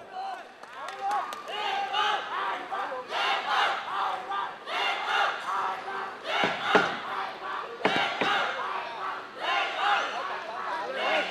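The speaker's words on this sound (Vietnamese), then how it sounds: "quý vị có thể dành một tràng pháo tay thật lớn được không ạ?" A large crowd at a boxing match shouts and cheers in loud surging waves, with scattered clapping and voices calling out throughout.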